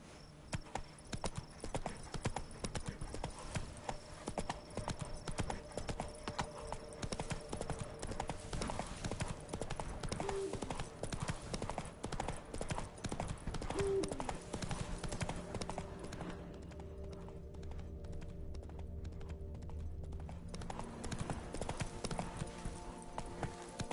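Hooves of Roach, the horse in The Witcher video game, clip-clopping in a fast, steady galloping rhythm, close and prominent for the whole stretch, with a brief whinny and some background game sound.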